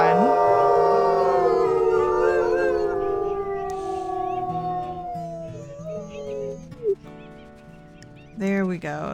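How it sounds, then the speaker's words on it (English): Wolf howl in Wildfire Pack Legacy: a long, clear, sliding howl that fades over several seconds, with fainter game sounds and a brief rising cry at the end. "let's just do another howl here"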